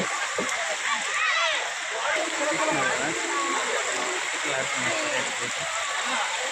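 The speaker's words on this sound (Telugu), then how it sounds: "మనమైతే నీటిని దాటుతా ఉన్నాము చూడండి" Water splashes and sloshes steadily as someone wades through a stream at Udayagiri hill waterfall, with a constant rushing background and a voice speaking over it.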